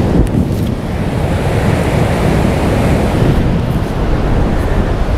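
Ocean surf rolls onto a beach on a windy October morning, a steady, loud roar of breaking waves mixed with gusting wind buffeting the microphone, with no voices.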